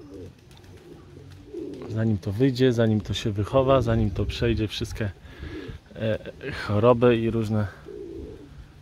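Pigeons coo in a pigeon loft, low throaty rolling calls heard close by, overlapping with someone talking for most of the stretch.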